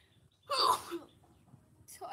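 A person with a cold lets out one loud, harsh cough-like burst close by, followed by quiet breathing and a second short onset right at the end.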